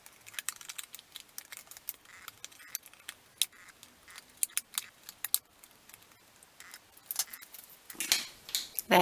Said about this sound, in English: And we need to cut out of our ship design.